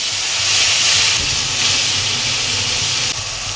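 Tomato paste goes into a pan of reddish-fried onions for a fish roe curry, raising a loud, steady hissing sizzle that carries on unbroken throughout, with no talking.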